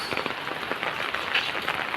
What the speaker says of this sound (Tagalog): Ayan, tag-ulan na.